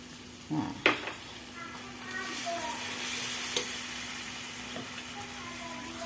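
Spicy dried salted squid frying in a pan sizzles steadily as a little water is added, with a couple of sharp stirring clatters near the start and a continuous hiss throughout.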